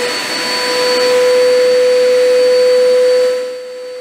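A Zipper ZI-ASA305A drum dust extractor runs steadily and close by with a constant whining hum and a strong tonal whine, then its sound drops off toward the end.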